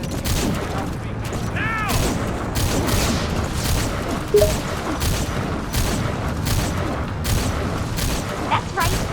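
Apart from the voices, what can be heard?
gunfire in video game Metal Gear Solid 5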